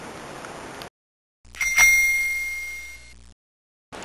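A single bright bell ring, used as the conditioning stimulus while training a dog, chimes once and rings out clearly, fading over about a second and a half in near silence.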